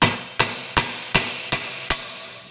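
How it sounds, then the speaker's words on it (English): Six evenly spaced sharp metallic hammer taps ring out, each hitting a socket to drive bushings into the lower control arm of a 1986 Chevrolet Monte Carlo SS, with short decays between the close, crisp strikes. "I'm gonna give it a crack, just tapping these in with a hammer"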